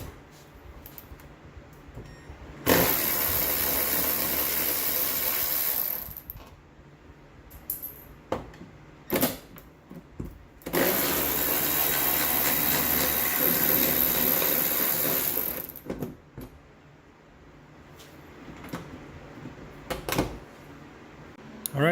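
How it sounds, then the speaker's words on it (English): Cordless ratchet loosening door roller bolts on a 2005–2010 Honda Odyssey, two sustained buzzing runs of a few seconds each, close up, separated by clicks and handling noises of the tool against the van's metal. "I do have a cordless ratchet"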